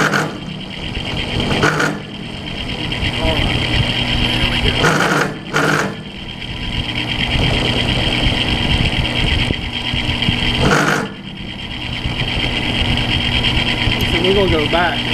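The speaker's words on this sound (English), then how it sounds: "that's one of the drawbacks of this particular lathe on steel" Continuous grinding and chattering of a metal lathe cutting steel, loud and close, with brief pauses between passes and a voice talking over the machine noise.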